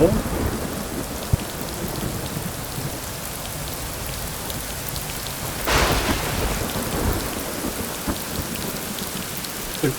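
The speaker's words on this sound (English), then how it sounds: "Like the rain's lightened up a little bit, but not a whole lot, huh?" Rain pours steadily in the Rising World video game with thunder rolling through, a dense continuous hiss and a sharp crack of thunder about midway, no voices.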